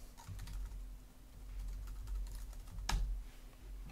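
Quiet keystrokes on a computer keyboard as a password is typed, a string of soft, close clicks in an irregular rhythm with one louder tap near the end, over a faint hum.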